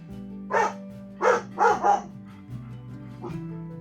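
A dog barks four times in quick bursts, fairly close and loud, over a steady low hum, followed by a fainter fifth yip.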